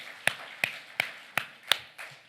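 A church congregation clapping in unison, about six sharp, evenly spaced claps, fairly close and clear with no talking over them.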